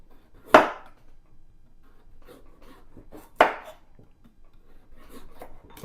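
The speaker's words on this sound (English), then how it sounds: "We're going to cut up our butternut squash." Two heavy knife chops through butternut squash on a cutting board, loud and close, spaced about three seconds apart, with quieter scraping and rustling between them.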